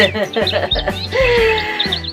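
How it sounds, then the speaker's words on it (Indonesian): A songbird sings in quick, bright chirps and warbling phrases through a short stretch, heard over a steady low hum and background voices. "Burung itu suaranya indah sekali."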